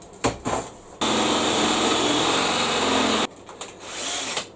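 A masonry stone drill bit bores into steel for a small scrap-art anvil, a steady loud whine running about two seconds between quieter handling noises, with no talk.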